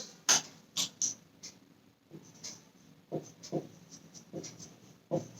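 Marker or chalk writes on a classroom board during a Class VI Hindi lesson: quiet, irregular taps and short scratchy strokes, spaced apart with near-silence between them and no talk.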